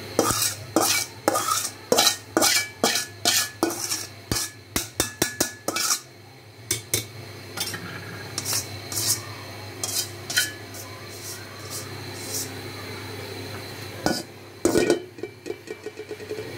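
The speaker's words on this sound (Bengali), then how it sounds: "এখন আমি সেমাইটাকে ঢেলে দিচ্ছি, আপনারা দেখেন।" Semai vermicelli poured and stirred in a pot of milk for Eid shemai: a rapid run of close metallic scrapes and clinks of a spoon against the pot, then a quieter steady simmer broken by a few more sharp stirring knocks.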